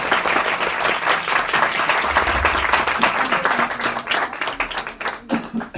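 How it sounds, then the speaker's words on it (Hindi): A church congregation at a Sunday service claps loudly to welcome first-time visitors. The applause is steady and close, with a few louder claps standing out, and it thins toward the end. "उसके लिए जोरदार ताली बजाएं"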